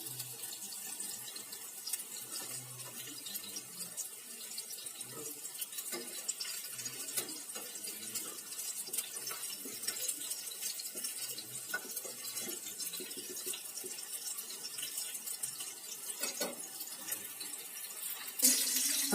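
Chapli kababs fry in oil over a very low flame, giving a steady, even sizzle and hiss that carries on unbroken and fairly loud throughout, with no voices.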